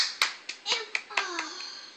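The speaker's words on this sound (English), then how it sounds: "Can you clap your hands, Jaden?" A small child claps hands, giving about six sharp, separate claps spaced unevenly over two seconds, close and fairly quiet, while a voice squeals and babbles between and after the claps.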